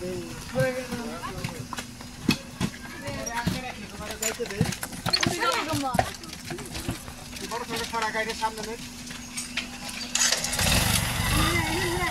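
Motorcycles pass along a village road during a rural Bangladeshi wedding, their engines buzzing amid near, busy chatter, with a louder broadband surge near the end as one goes by.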